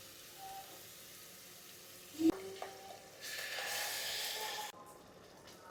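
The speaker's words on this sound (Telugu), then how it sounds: "ఇప్పుడు టమాటా ప్యూరీ కూడా వేసుకుందాం." Tomato puree hits a pan of sizzling goat-trotter paya gravy with a sharp splat, then a loud burst of frying hiss swells for a second or two before easing back to a low sizzle.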